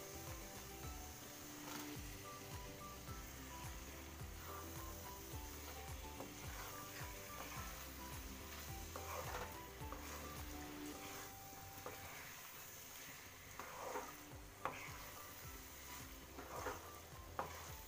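Paneer sizzles and fries steadily in a pan while being stirred for matar paneer, a continuous close crackle with occasional scraping clinks and no talk.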